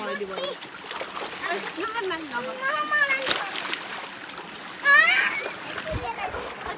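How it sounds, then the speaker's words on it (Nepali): People swimming in a cold, fresh spring-fed river on a hot day splash in bursts, with louder sloshes around the midpoint, while children and adults talk and shout throughout. "पानी नफा पानी नछाप"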